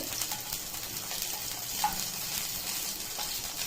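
Green chillies, garlic, tamarind and onion fry in oil in a kadai for a capsicum thuvayal, a quiet, even sizzle with faint stirring taps throughout.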